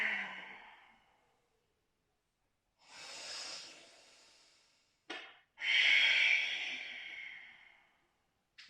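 Slow, breathy exhalations during a yoga warm-up, a few soft airy breaths with long quiet gaps between them, close and fairly loud.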